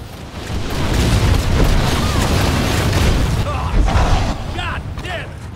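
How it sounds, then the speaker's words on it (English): Heavy bombardment explosions in the video game Evolve make a dense, loud, continuous booming rumble that lasts for several seconds, with voices underneath. "Good bombardment."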